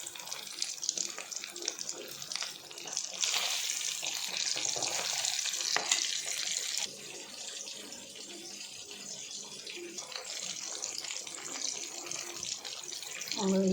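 Anchovies fry in hot oil with a steady, close sizzle and crackle that swells and eases but runs continuously, with no talk over it.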